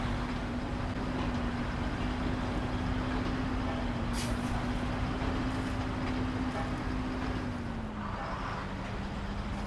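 Truck engine droning and straining while stuck in mud in the off-road driving game SnowRunner, a loud, steady low hum with a held tone that dips slightly near the end.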